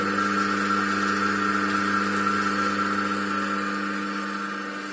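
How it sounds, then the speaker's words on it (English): Single-phase induction motor running with no load on a test bench, giving a steady, continuous hum with a fixed tone, held at an even level throughout. "You can see here the motor is running at no load."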